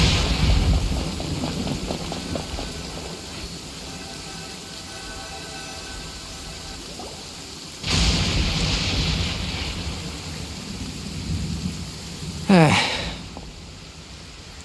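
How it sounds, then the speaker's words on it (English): Steady rain patter in the video game Genshin Impact fills the scene, with broadband swells of heavier downpour or rumble near the middle and a sharp crack-like burst near the end, while a voice speaks quietly over it at times. "Let's get out of the rain, shall we?"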